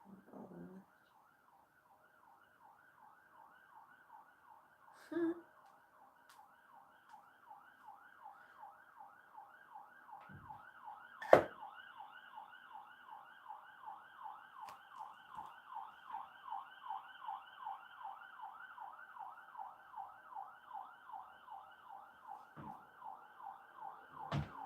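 Siren near a hospital wails continuously with a rapid warbling pattern, steady and fairly loud, with a few sharp knocks and thumps scattered through it.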